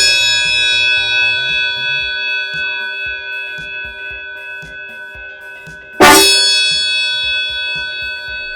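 A loud Hella Vatican bell car horn blares suddenly after a stretch of quieter buzzing and clicks, ringing with a bright metallic tone that slowly fades.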